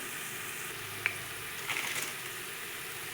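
Cloves and black peppercorns sizzle in hot oil over sautéed onion, a steady soft frying hiss with a sharp crackle and a brief burst of spattering as spices hit the pan.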